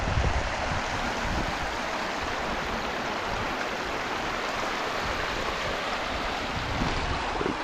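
Water rushes steadily and continuously, a broad roaring flow of a creek heard up close with no voices.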